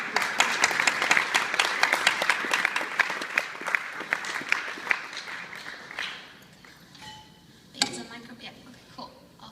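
An audience at a women empowerment luncheon breaks into brisk, dense applause for about six seconds. The clapping then fades to scattered claps, a few murmurs and a brief thump.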